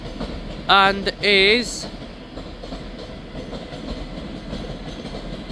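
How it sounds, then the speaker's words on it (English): The 12:11 TransPennine Express to Manchester Airport pulls out of Edinburgh Waverley with a low, continuous rolling rumble, while a brief amplified station announcement sounds near the start. "Departing out now is the 1211 Transpennine Express starting here at Edinburgh Waverley to Manchester Airport"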